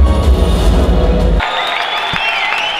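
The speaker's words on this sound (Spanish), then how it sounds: "Y otro fuerte aplauso por ese equipo que ha trabajado durante semanas" Audience applause and cheering fill the room at the Rewind Hispano 2022 event, a dense, steady clapping wash that abruptly thins after about a second and a half into lighter crowd noise.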